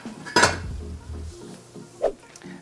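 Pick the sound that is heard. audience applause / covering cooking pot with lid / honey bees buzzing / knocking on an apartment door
covering cooking pot with lid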